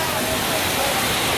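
A steady, loud downpour of heavy rain hisses without a break during a night in Raipur, dense and close.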